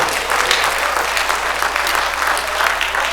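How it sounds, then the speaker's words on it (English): A church congregation claps during a sermon, a dense, steady burst of hand clapping close by that fills the whole short moment. "Can I get a hand clap out here?"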